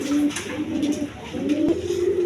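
Pigeons at a pigeon farm, kept in pairs with their young, coo steadily and fairly loudly at close range, several birds overlapping in a continuous murmur with no talk.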